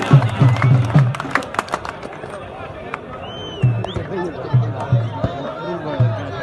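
Scattered audience clapping at a public gathering comes in brief bursts early on, then fades beneath a loud amplified voice and steady crowd chatter.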